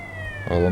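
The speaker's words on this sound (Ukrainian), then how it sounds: "І ми швидко будемо їхати з тими сиренами." A police siren in GTA San Andreas wails with steady rising and falling tones over engine rumble, growing louder toward the end.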